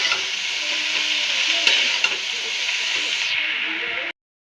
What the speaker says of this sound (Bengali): এবার কুমড়োগুলো দিয়ে দেবো। এটা দিয়ে আবার একটু নাড়াচাড়া দিয়ে